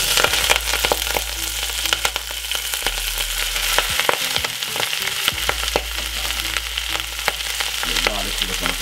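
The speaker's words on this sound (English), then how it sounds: "we're gonna put in the vegetable like this" Leftover vegetables frying in a very hot pan for a vegan stir fry, giving a loud, continuous crackling sizzle with frequent sharp spits and pops and occasional stirring scrapes, close up and with no talk.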